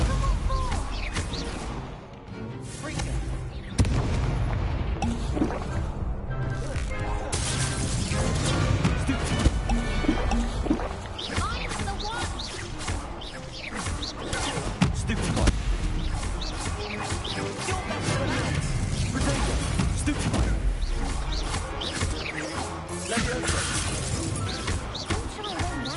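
Spells in Hogwarts Legacy such as Stupefy and Incendio crackle and burst in a dense, loud stream of combat effects with crashes and whooshes, all under a continuous game soundtrack.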